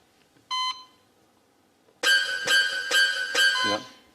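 A heart monitor beeps once on its own, then after a pause sounds a run of four loud, evenly spaced electronic tones that merge toward a flatline.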